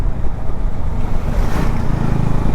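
A Bajaj Pulsar RS200 motorcycle rumbles while being ridden, its engine blending with heavy wind buffeting into a loud, continuous roar, close throughout with no talk.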